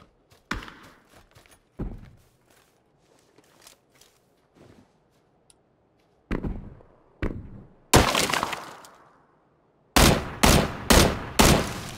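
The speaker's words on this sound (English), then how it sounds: "I'm being shot from the top of the mountain." Gunfire in PUBG on a mountainside map, with sharp scattered shots early, then loud clustered bursts and four evenly spaced heavy reports near the end, no speech.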